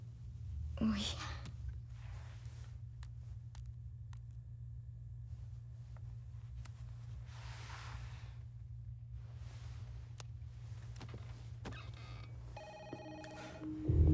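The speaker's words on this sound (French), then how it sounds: "Va décrocher le téléphone." An office telephone on a private line rings near the end in a short burst of electronic tones, after a long stretch of quiet low hum broken by soft whispering and faint movement.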